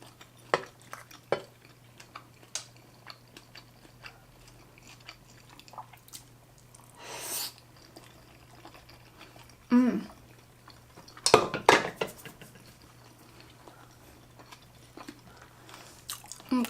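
Mouth sounds from eating big oysters in a seafood mukbang of lobster and oysters, with faint wet chewing, occasional cutlery clinks and clattering dishes, mostly quiet with a few louder bursts near the end.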